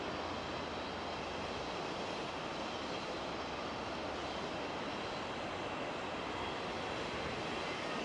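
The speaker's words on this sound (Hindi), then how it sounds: "साथ में इतना तेज़ पानी बहता हुआ" Fast-flowing river water rushes steadily beside a riverside restaurant complex in Tashkent, a constant broadband roar with no breaks and no voices.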